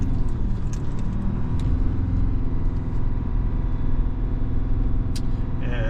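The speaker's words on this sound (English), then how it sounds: "So it's running on diesel now." A vehicle engine idles steadily on diesel after running on vegetable oil, a constant low rumble with a faint high whine and a few light clinks near the end.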